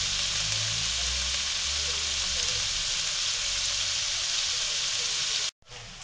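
Shallot and garlic fry in a hot pan for lasagne, giving a steady, loud sizzle with bubbling crackle that runs evenly and alone, then cuts out sharply just before the end.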